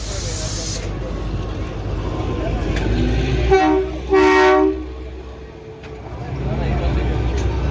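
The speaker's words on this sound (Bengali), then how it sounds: "ঢুকে গেছে আমাদের ট্রেন, ওই পাশে ঢুকছে" A train rumbles into a narrow station platform on a trip to Shimla, a steady low roar with a loud horn toot sounding twice near the middle; people talk over the noise.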